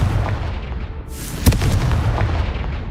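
A Confringo blasting spell in the video game Hogwarts Legacy erupts into a sharp, booming explosion after a short whoosh, followed by a rumbling, crackling tail that lingers over low background music.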